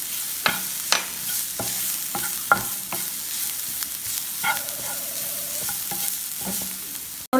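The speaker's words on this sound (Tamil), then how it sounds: "நல்லா கொஞ்சம் வதக்கிட்டோம்" Egg curry masala with turmeric and chili powder sautés in a pan, a steady close sizzle broken by repeated spoon stirs and scrapes, with no talking.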